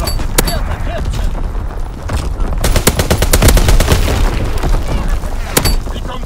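Gunfire in Call of Duty: WWII during a Domination match on the Shipment 1944 map: loud, dense bursts of rapid shots and heavy booms crowd close together, with game voice callouts faintly underneath.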